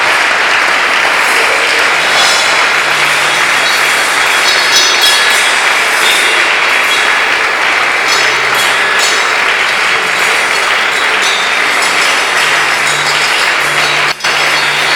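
A church congregation applauds and cheers steadily and loudly for the whole stretch, a dense, unbroken wash of clapping with no clear pauses.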